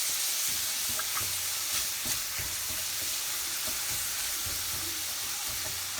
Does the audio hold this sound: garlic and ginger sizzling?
yes